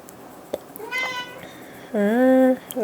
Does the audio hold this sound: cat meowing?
yes